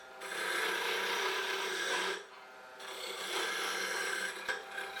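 A sharp spindle roughing gouge is planing a maple spindle on a lathe. Steady rasping cuts run for about two seconds, then a brief pause, then a second sustained pass, close and clear with no talking.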